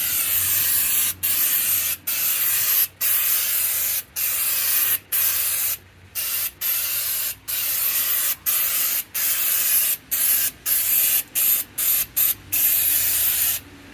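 Rocker guard coating sprayed inside the trunk of a 1962 Comet, a loud hissing aerosol spray in repeated bursts of about a second each, separated by brief pauses, close up and with no talking.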